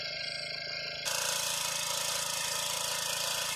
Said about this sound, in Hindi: 70 वाला इंजन है जी कहते मशीन।